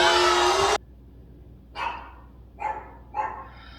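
A dog barks three times in short, separate bursts at moderate distance, each a sharp single woof with pauses between, following a louder sustained sound at the start.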